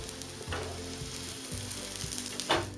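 Aloo tikki fry in oil in a pan over medium to high flame, a steady low sizzle with a couple of brief spatter bursts, quiet and close.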